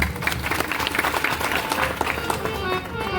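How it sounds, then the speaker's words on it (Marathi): Applause from an audience at a comedy kirtan, a steady wash of clapping that carries through the whole moment with voices mixed in, moderately close. "टाळ्या तर वाजवायची"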